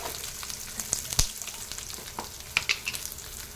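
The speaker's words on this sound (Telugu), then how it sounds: "ఎల్లిపాయలు, జీలకర్ర దూరగా వేయించవాలండి ఫ్రెండ్స్." Garlic and cumin fry in hot oil for a tomato pickle with a soft, steady sizzle, and a utensil clinks and stirs a few times.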